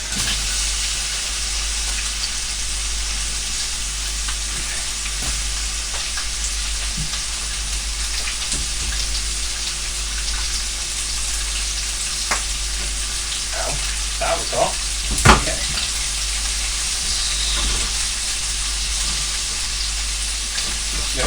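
Sausage and grapes frying together in a pan, giving a steady, loud hiss and crackle throughout, with a few sharper spits and pops near the middle and end.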